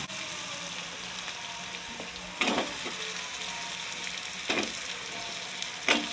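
Red pumpkin pieces added to hot spiced oil in a kadhai, frying with a steady sizzle, a few sharper bursts and stirring scrapes, no talking.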